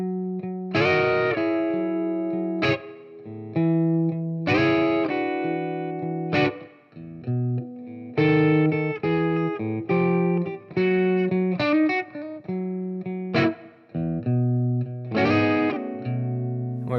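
An electric guitar plays the last four bars of a blues song, chords and single-note licks, slightly distorted with a chorus-like shimmer, steady rhythm throughout.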